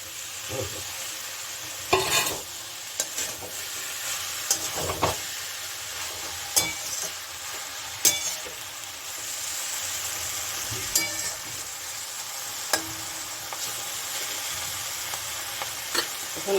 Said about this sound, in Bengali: এখন আমি দিয়ে দেবো মাছটা